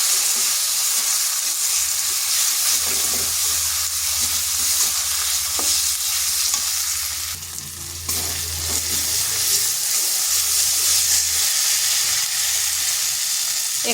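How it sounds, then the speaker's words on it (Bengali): Spice paste of cumin, turmeric and chili powder frying in a pan, a steady close sizzle with stirring scrapes running throughout, briefly dipping near the middle before resuming. "এবার মশলাটা ভালোভাবে কষে নিচ্ছি।"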